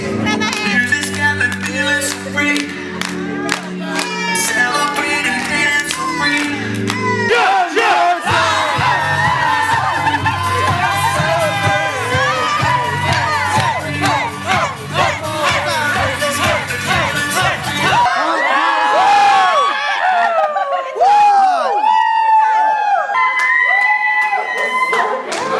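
A wedding crowd at a festival-style grand entrance cheers, whoops and yells loudly over pounding dance music, the roar building and breaking into scattered shouts near the end.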